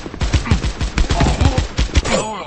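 The Jack Frost gun in the Guns of Boom video game fires rapidly and loudly, a steady stream of punchy shots at close range, about five per second, with no gaps.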